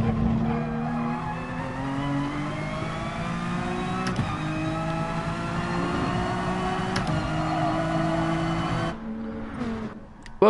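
A Honda NSX race car in Gran Turismo Sport roars at high revs, its engine note loud and steady through a long pull with brief shifts, then cuts out near the end with a short burst of tire noise.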